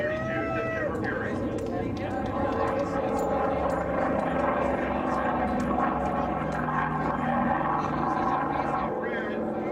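The racing airplane September Fury roars past at the Reno air races, a steady loud propeller drone with shifting tones, under a commentator's voice on the public address.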